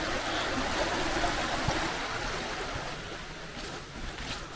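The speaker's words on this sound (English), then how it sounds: "Here's a waterfall in front of me. I thought I could hear some raging water" A waterfall and rushing water pour over a weir in an abandoned quarry, making a constant broadband roar that stays steady and fairly close throughout, with no voices.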